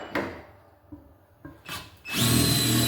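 Power drill fitted with a hole saw and pilot bit starts up in short bursts, then spins steadily into the workpiece, close and fairly loud, with no voices.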